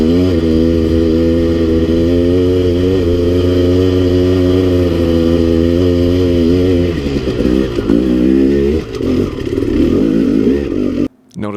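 A KTM 300 XC two-stroke dirt bike rides the rocky Cliffs of Doom trail, its engine loud and close with a steady buzzing drone that turns into uneven throttle blips and clatter toward the end.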